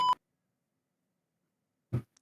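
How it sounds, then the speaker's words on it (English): A single short electronic beep like a life-support monitor tone sounds close and clear at the start, followed by silence and then a brief low vocal fragment. "I'm just going to keep beeping everything he said."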